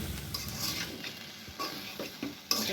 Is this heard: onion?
yes